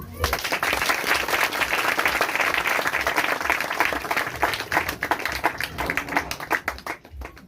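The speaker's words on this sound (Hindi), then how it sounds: "एक बार जोरदार ताली बजाएं।" A church congregation at a Friday healing and deliverance prayer service claps loudly and steadily, dense sustained applause filling the room for several seconds before thinning out near the end.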